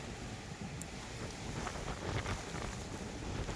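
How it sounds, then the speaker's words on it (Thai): Strong wind buffets the microphone outdoors in a Taiwan jujube orchard, a continuous roaring rush with gusty swells and faint rustling, filling the whole stretch without any talking. "ลมค่อนข้างแรงครับ วันนี้ครับ"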